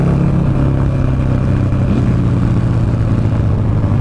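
A 2009 Buell Lightning Long XB12SS motorcycle engine drones loud and close while riding, with a steady, gritty low rumble that carries on without a break.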